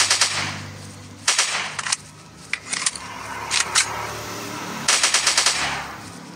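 Gunshots in a dinosaur hunting shooting game on Android: several sharp bursts of rapid automatic fire, loud and close, separated by short pauses, with no talking.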